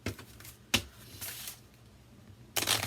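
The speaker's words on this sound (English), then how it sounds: "Let's shuffle. Ooh, wow, these are nice and stiff." A new, stiff deck of playing cards is shuffled by hand, giving a few short riffling bursts separated by quiet pauses, close and moderately loud, with no talk.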